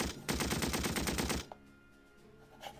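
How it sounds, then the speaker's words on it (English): A Vickers machine gun in the WW1 video game Battle Academy fires a loud, rapid burst of about a second, its evenly spaced shots hammering close, then cutting off into quiet game ambience with a faint later thud. "Maybe one more shot with our Vickers."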